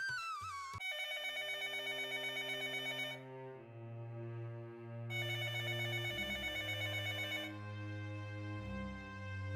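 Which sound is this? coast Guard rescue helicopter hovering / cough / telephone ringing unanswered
telephone ringing unanswered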